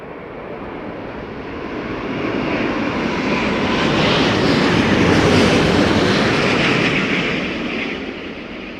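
A jet airliner descends toward London Heathrow during Storm Darragh's crosswinds, its broad engine roar swelling as it nears and then easing slightly, heard from a distance with wind noise.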